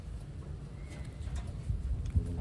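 Big pigeons in a loft give soft, low coos close by over a dull background, with a few faint rustles and taps and no talking.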